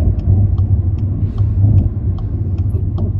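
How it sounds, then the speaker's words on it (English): An old Porsche rolls past with a steady low engine rumble and light ticking, close and moderately loud, without any talk. "that was a bit of an old car in the back there. Oh, no, it's a Porsche."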